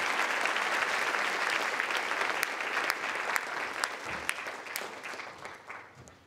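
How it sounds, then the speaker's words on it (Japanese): Applause from the audience at a Tokyo International Film Festival lineup press conference, a steady wash of many hands clapping at moderate level, tapering off gently near the end. "拍手でお願いください。"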